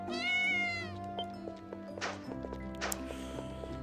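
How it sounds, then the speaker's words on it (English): A cat meows once, loud and close, in the video game Ys: Memories of Celceta, followed by soft footstep-like taps over steady background game music. "That's a cat."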